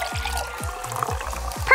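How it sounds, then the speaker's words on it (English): Soda poured into a glass, a steady liquid stream with repeated glugging pulses, close and clear with no talking. "I'll just pour another drink."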